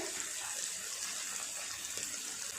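Water is poured from a tap or vessel into a pan of cooking spice mix of turmeric, chili, cumin powder and salt for an egg curry, making a steady, even splashing hiss for a couple of seconds.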